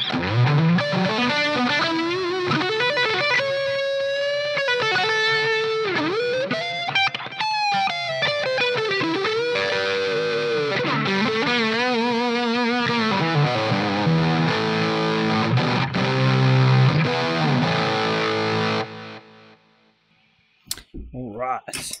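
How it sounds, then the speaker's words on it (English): A heavily distorted electric guitar through a boost pedal plays sustained bends and riffs with a saturated tone for about twenty seconds, then cuts off, leaving a few clicks. "Let's chuck some boost on."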